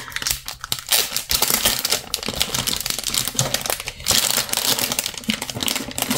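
Packaging of ACTION watercolor paints being opened: steady close crinkling and crackling of plastic and paper, with rapid tapping rustles throughout and no talk.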